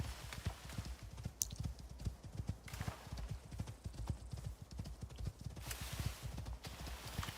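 A horse's hooves clip-clop in a steady, even rhythm just before daylight, the hoofbeats clear but fairly quiet against a still background.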